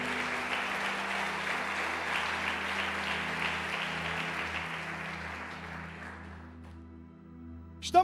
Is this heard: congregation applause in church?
yes